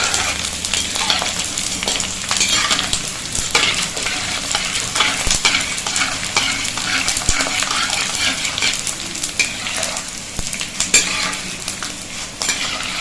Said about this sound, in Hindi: ये देखिए हमारा इस तरह से भून रहा है, तो थोड़ी देर भूनना है इसको।